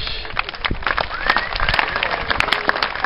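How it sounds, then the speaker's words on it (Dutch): At a boys' camp, a crowd gives a sustained burst of applause for the green pepper team, with dense clapping, scattered cheers and some voices. "Nog een keer een groot applaus voor de groene paprikasnaaiers"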